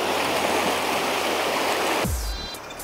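Rushing rapids of the Naka River in Tochigi, a steady loud broadband roar of fast shallow water that fills the clip, with a brief low thump near the end as the rush softens slightly.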